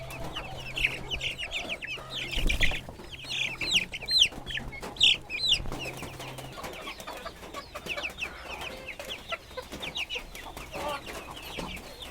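Caged broiler chickens on a small backyard farm in Bangladesh cluck and squawk in frequent overlapping calls, fairly close, with brief louder bursts and no talking.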